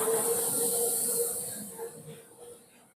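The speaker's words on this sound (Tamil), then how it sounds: "அடுத்து கஞ்சி செய்யறதுக்காக அடுப்பை பத்த வைக்கிறாங்க." A stove is lit for cooking nonbu kanji, giving a steady, fairly close hiss that holds for nearly three seconds, gently fades and then cuts off.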